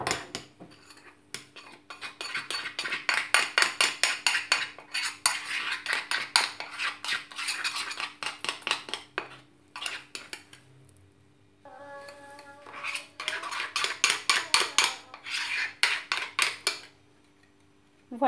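Cocoa cake batter is mixed in a bowl, with a fast, steady run of utensil clicks and scrapes against the bowl that pauses briefly, then resumes loud and close. There is no talking.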